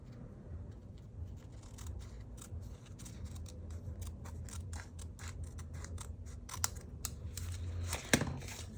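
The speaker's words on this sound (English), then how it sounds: "So first I'm gonna trim along here to clean that up a little bit." Scissors trimming excess material from a mixed-media tuxedo pocket, a quiet, quick run of crisp snips close by, ending in a slightly louder cut.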